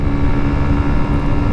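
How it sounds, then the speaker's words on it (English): A 50cc scooter engine drones loudly and steadily while riding, a dense continuous roar with a buzzing harmonic tone and wind rush, close to the microphone with no pauses. "Oh man, listen to the roar of that engine,"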